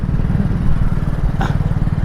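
A motorcycle engine runs steadily at low revs while a learner rides, a continuous near drone with one brief higher rasp partway through.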